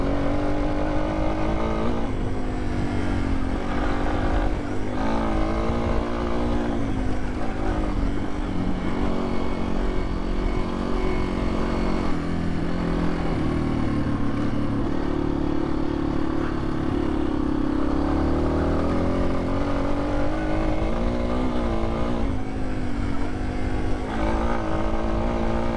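A Yamaha XT250 motorcycle being ridden on a lap, its engine droning loud and constant with shifting pitch as it speeds up and eases off, wind and rattle mixed in.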